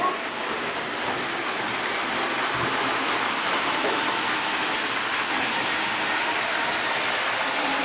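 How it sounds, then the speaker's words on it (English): A steady broadband rumble and rush of a train rolling past nearby, continuous and fairly loud throughout. "We'll wait till the train goes by because it makes too much noise."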